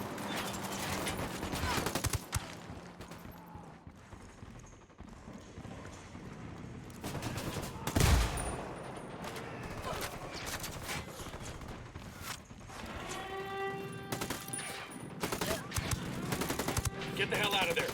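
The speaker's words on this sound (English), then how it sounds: "I'm opening fire." Gunfire erupts in a Ghost Recon Wildlands firefight as rapid bursts and scattered shots crackle across a busy battle soundscape, with clanking mechanisms and brief voice fragments in the mix.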